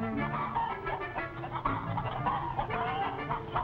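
Many chickens cluck and chatter together in a laying house, a dense, continuous, moderately quiet flock murmur with no voices.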